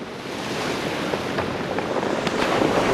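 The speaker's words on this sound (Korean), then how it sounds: "돌김을 채취하려면 늘 차가운 겨울 파도와 싸울 수밖에 없죠" Cold winter sea waves surging against the rocky Ulleungdo coast, a loud, steady wash of surf with wind buffeting the microphone, no voices.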